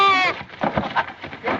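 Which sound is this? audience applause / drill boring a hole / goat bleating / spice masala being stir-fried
goat bleating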